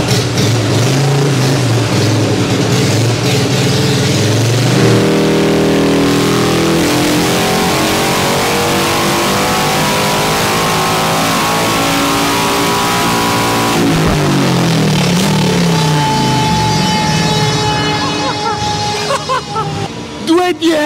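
A Harley-Davidson motorcycle engine runs on a dynamometer roller test bench, revving up through rising pitch sweeps, dropping back and climbing again, loud and close throughout.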